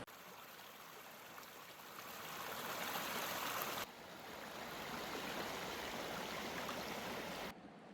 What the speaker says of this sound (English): The river beside camp was beautiful